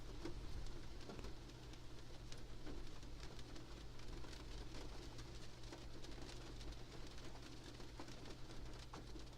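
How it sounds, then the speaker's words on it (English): Steady rain falls around a parked car, a faint, continuous patter with soft droplets and a low hum beneath, no talking. "wanted to listen to the rain for a few minutes."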